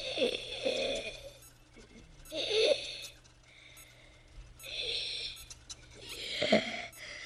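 Creature breathing heavily in a dubbed horror TV drama, slow ragged inhales and exhales in a rhythmic cycle of about four breaths, close and rasping, with a low steady hum beneath.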